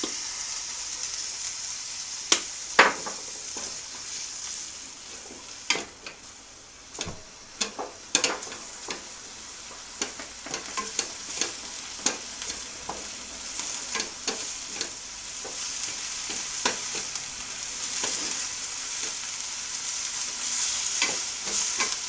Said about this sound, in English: Now we're going to add our olives to it. We're going to mix it really well.